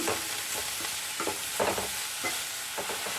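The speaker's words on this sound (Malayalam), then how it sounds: "നമുക്ക് നന്നായിട്ട് തന്നെ ഒന്ന് വഴറ്റിയെടുക്കാം" Onions sautéing in a pan for chicken curry, a steady close sizzle with repeated scraping stirs of a spoon every half second or so, no voices.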